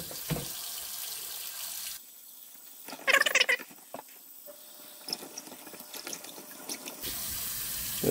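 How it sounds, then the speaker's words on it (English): Cold tap water running into a bowl of cut potatoes for rinsing, with bursts of splashing and sloshing as the pieces are stirred, the flow stopping and restarting, close and clear with no talk. "I'm gonna give them a couple rinses with cold water."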